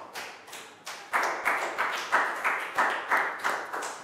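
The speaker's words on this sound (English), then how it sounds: "Big round of applause for Dan" A Year 3 English class claps for a student in quick, evenly spaced claps, about three per second, close and crisp, with no talking over them.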